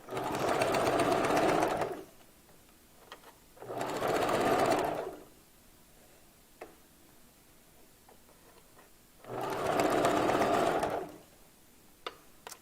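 A sewing machine runs in three separate bursts of steady whirring stitching, close by, with quiet pauses and faint clicks between them.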